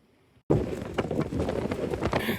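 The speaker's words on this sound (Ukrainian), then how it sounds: "Вітер вон таке, що пройтись не можна." After a brief quiet moment, loud gusting wind buffets the microphone, roaring and fluttering up close for the rest of the clip.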